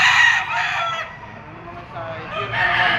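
Gamecock rooster, a three-year-old Golden Boy Boston, crowing loudly at close range, one long call followed by a second crow starting near the end, over low background noise.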